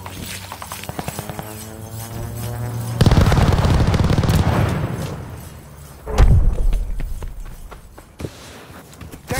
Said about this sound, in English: Calling in a strafing run!